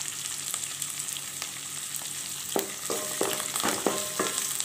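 Small onions sizzling and frying in a pan for brinjal pachadi, a continuous hiss that grows denser toward the end, punctuated by repeated stirring scrapes, with no talking.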